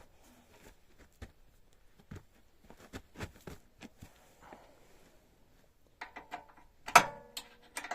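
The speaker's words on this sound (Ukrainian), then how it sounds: "Сейчас попробуем затянуть болт." Bolt being tightened on the side stand of an Izh Planeta motorcycle: sparse metallic ratchet clicks and small clanks, close and fairly quiet, with a louder clatter near the end.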